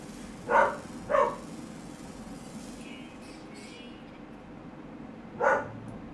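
A dog barks three times at moderate distance: two quick barks close together, a pause, then a single bark, over a faint steady background hum with no talking.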